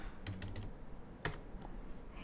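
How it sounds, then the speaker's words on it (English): A few quiet, close clicks of typing on a computer keyboard, a short cluster of keystrokes followed by a sharper single tap over a low background hum. "You type something"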